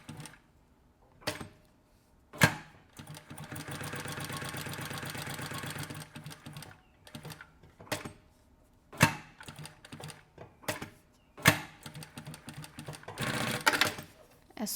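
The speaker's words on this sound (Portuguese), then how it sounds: "vou passar uma costurinha só na parte de cima, vou colocar aqui o ponto número 3" A sewing machine runs a top finishing seam on stitch setting number 3, with short bursts and one longer steady whirring run of rapid stitching, separated by quiet pauses and sharp clicks.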